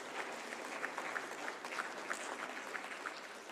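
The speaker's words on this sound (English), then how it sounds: "A huge round of applause for Jay for the..." An audience at a disability inclusion event claps steadily for a few seconds, faint and somewhat distant, with no talk.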